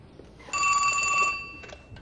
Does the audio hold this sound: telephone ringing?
yes